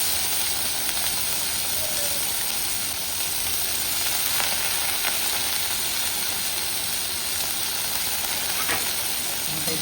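Cut potatoes fry in a hot pan with a steady, bright sizzle and hiss throughout, joined by a few faint scraping stirs, close and continuous.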